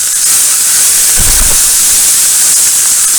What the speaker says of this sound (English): Start off with those onions, let those go.